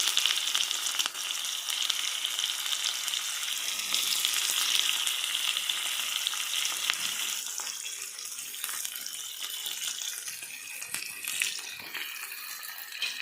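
Chopped onion fries with garlic in a hot pan, a steady close hiss of sizzling oil throughout that eases slightly toward the end, with no talk.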